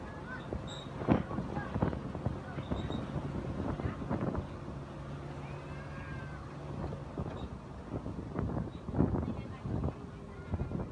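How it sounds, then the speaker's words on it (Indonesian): Strong wind buffets a passenger ferry crossing Lake Toba in high waves during extreme weather, a steady rushing roar of wind noise with splashing water beneath voices talking throughout. "Angin kencang. Tuh ombaknya tinggi ya."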